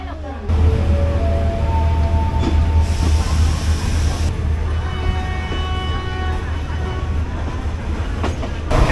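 An overnight sleeper train from Bangkok to Kuala Lumpur rolls steadily along the rails with a continuous low rumble and rattle, joined briefly by a higher hiss partway through.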